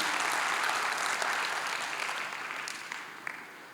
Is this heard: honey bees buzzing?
no